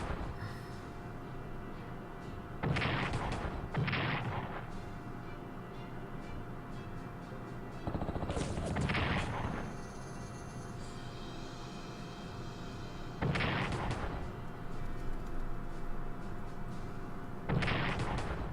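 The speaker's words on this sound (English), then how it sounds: "Chinese artillery decides to fire." Artillery firing in the World War II strategy game Strategic Command: World at War, with four or five heavy booming bursts spaced a few seconds apart over a steady low rumble of battle ambience.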